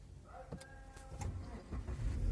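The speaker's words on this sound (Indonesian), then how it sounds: "Kita injek dulu koplingnya, lalu kita pijit tombol engine start stopnya." A 2016 Toyota Yaris engine starting from its keyless push button, with faint clicks followed by a rising mid-pitched engine rumble that grows louder toward the end, heard close and alone.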